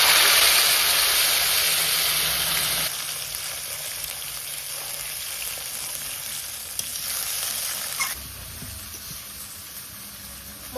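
A spice paste of ginger, garlic, tomato, onion and chili hits hot oil with a loud, bright sizzle that eases into a steadier, softer frying hiss, with a brief stir partway through.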